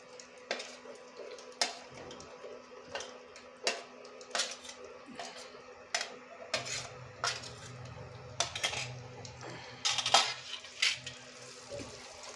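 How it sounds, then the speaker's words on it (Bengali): Capsicum and onion pieces go into a pan, giving a series of irregular metallic clinks and taps from the utensil, with a soft low sizzle rising partway through, close and quiet. "এখন আমি দিয়ে দেব এই ক্যাপসিকাম পেঁয়াজের পাপড়িগুলো দিয়ে দিচ্ছি"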